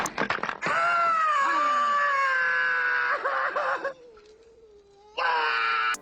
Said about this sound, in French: là c'est des cris et des pierres qui s'entrechoquent